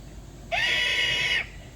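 A single raspy, hissing screech about one second long, a person's voice imitating a barn owl, close and fairly loud.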